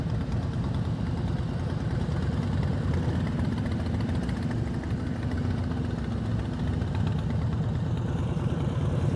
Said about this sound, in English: right now, your whole engine is shaking. The throttle's too low.